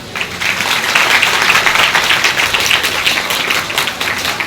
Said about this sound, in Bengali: হাততালি দাও একটা।